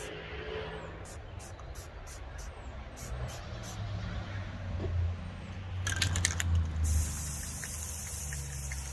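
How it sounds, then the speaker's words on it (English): Power washer spraying onto a tumbler coated in white spray paint, a hissing rush of water that starts and stops in short bursts and intermittent sprays, with clattering and a steady low background rumble. "I'm going to spray it with my power wash"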